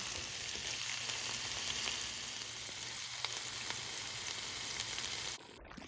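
Inch-and-a-half meatballs brown lightly in a pan with a steady, dense sizzle and crackle. The sizzle holds close and even for several seconds, then cuts off abruptly near the end.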